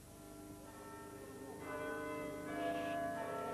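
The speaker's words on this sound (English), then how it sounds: "It's no surprise to hear the cathedral bells in Lincoln on a spring morning." Several large bells of Lincoln Cathedral ring together on a spring morning in overlapping peals, resonant and sustained, with new strikes building the sound louder partway through.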